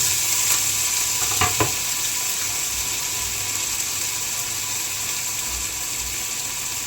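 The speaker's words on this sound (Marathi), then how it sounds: "कढीपत्ता तळतळला की टाकायचा आपला कांदा, नंतर टोमॅटो" Onion and tomato frying in hot oil with curry leaves, a constant close sizzle with a brief clatter of stirring early on, no voices over it.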